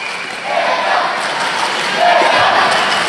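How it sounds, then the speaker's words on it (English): Crowd at the World Judo Championships in Baku, Azerbaijan, roars and cheers in a large arena, a dense sustained wash of voices that swells louder partway through. "Nice atmosphere in the crowd."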